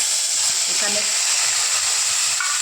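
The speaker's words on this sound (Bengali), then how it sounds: "আমি এবার পেঁয়াজ বাটাটা দিয়ে দেবো" Onion paste, blended with garlic, ginger and green chilli, hits hot oil already frying dry red chilli and white cumin, giving a steady close broadband sizzle that stays loud throughout, with no talking.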